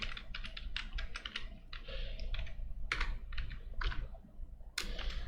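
Rapid clicks of a computer keyboard as a Java program is typed, irregular bursts of keystrokes close up with short pauses between runs, no talking.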